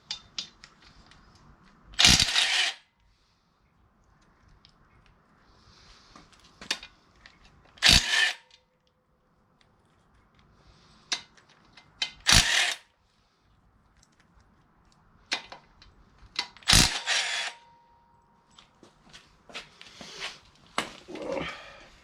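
Power tool, likely an impact wrench, spinning out the six flywheel bolts on a small block Chevy V8, in several separate loud bursts of a few seconds each with quiet gaps between them, close up.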